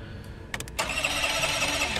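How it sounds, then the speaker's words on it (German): A car engine in a video game cranks with a few quick stuttering turns, then catches and settles into a smooth, steady purring idle close by. "Motor schnurrt"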